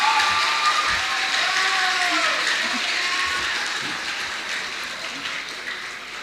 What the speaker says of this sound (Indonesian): mari beri tepuk tangan yang meriah untuk Angkatan 25 SMA Islam Al-Azhar 3